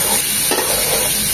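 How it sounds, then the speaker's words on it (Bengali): Bitter gourd (ucche) frying in a pan gives off a steady, close sizzle. A brief stir sounds near the middle. "আমাদের করলা ভাজিটা বা উস্তা ভাজিটা প্রায় একদম হয়ে গিয়েছে।"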